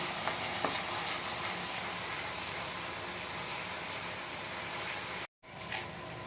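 Mustard-based Bengali fish gravy bubbling and sizzling steadily in a pan, a close continuous hiss that cuts out briefly near the end before resuming.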